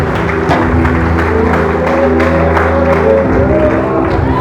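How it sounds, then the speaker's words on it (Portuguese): A church congregation claps and cheers loudly throughout, with steady dense applause, occasional whoops and a low sustained musical drone underneath. "Só quem tem palmas glorifique a palavra."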